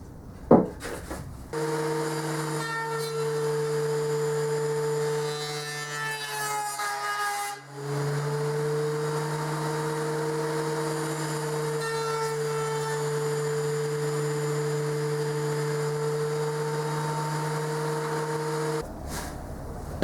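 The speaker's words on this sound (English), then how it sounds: "Next up, we'll put them through the planer." Planer running while wooden boards for Christmas luminaries are planed, a steady humming motor drone with a brief dip as a board feeds through, cutting on and off at the ends.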